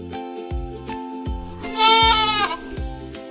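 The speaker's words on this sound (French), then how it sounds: "Les chèvres, plus vives, grimpent sur les rochers en bêlant d'une voix plus aiguë" Goats bleat in high, wavering voices on a farm, a few short calls repeating over a steady musical backing, with one longer, louder bleat rising in the middle.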